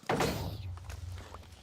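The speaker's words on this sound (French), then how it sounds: "Explose, allez, explose le creeper." Creeper exploding in the Minecraft video game: a sudden loud blast at the start with a booming low rumble that lingers and decays over the following second, with no talk over it.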